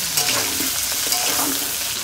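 Potatoes with green chillies fry lightly in hot oil in a pan, giving a steady close sizzle with faint stirring scrapes throughout, no voices.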